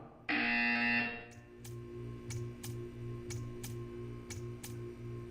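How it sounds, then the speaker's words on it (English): In the video game Portal 2, a loud electronic buzzer blares for about a second, followed by a series of sharp, evenly spaced clicks or ticks over a low mechanical hum. "When you hear the buzzer, stare at the art"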